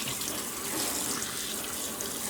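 Steady running tap water flows into a sink while a tie-dyed garment is rinsed, a constant close, even hiss and splash with no pauses.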